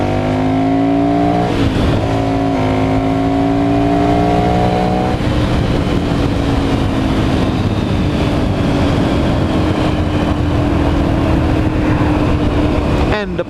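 A loud motorcycle engine revs steadily at low speed, its deep rumble shifting pitch as the throttle changes, running continuously throughout.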